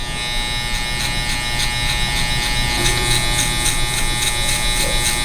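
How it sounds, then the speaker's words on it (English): Gamma Shorty electric hair clippers with a guard buzz steadily through hair during a mid-fade buzz cut, a close, continuous motor hum with rhythmic pulses as the blade passes. "These are the new Gamma Shorty clippers"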